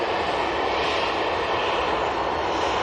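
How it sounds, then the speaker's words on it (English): A Hainan Airlines airliner touching down at Manchester Airport, heard as a loud, steady roar of engines and rushing air with no distinct impact, no voices. "Nice touchdown there from the Hainan."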